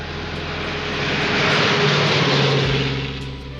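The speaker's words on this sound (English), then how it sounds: "a car comes speeding down the road" A car speeds down an open country road in North by Northwest, its engine roar swelling loudly as it nears and then easing off, with no other sounds around it.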